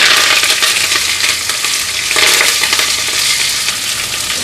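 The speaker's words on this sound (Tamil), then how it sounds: "நான் கருவேப்பிலும் வெங்காயம் போட்டுக்கிறேன்." Curry leaves and onion sizzle loudly in hot oil in a pan while a Tamil bitter gourd sambar is cooked, a dense, steady frying hiss with light stirring.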